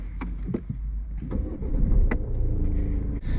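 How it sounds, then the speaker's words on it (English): A car engine starts and settles into a steady idle at the start of a mock driving test, heard from inside the vehicle with a few clicks and knocks over the low rumble, and no talking. "start your engine."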